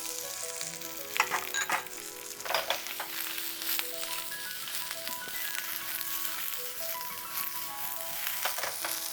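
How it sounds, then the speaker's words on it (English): Onion and carrots stir-frying in shimmering oil for a Chinese-style stir fry, a continuous close sizzle with intermittent scraping stirs and crackles, loud and steady with no talk. "When the oil is shimmering, and it is shimmering this time too, put the onion in there."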